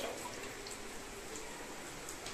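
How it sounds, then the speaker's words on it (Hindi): A little water goes into masala frying in a cooking pan, giving a steady, even hiss and wash that lasts throughout with no voice over it. "तो हम पानी डालेंगे इसके अंदर हल्का सा, ज़्यादा नहीं डालेंगे"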